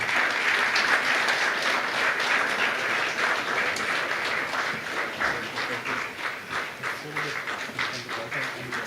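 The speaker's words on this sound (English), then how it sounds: "Another round of applause for the Deputy President" Loud, dense applause fills a parliamentary forum hall for the Deputy President, a steady wash of many hands clapping throughout, with voices mixed into the crowd noise.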